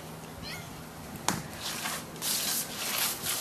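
An orange cat meows indoors, with a short sharp meow near the middle of the clip, followed by rustling and shuffling noise.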